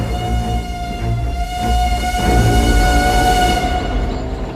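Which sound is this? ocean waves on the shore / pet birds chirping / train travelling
train travelling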